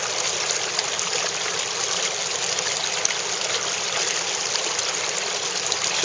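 Water flows steadily through a gold-prospecting gravity dredge sluice outdoors, making a constant close-up rush and trickle that stays even throughout, with no talking.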